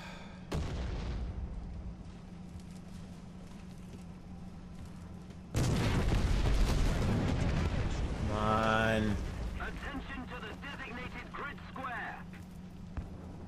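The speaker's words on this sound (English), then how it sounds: "It was artillery again." Artillery fire in War Thunder strikes around a Leopard 2A4 tank, a heavy booming blast that opens into a long loud rumble, with a low engine drone running throughout and someone talking over part of it.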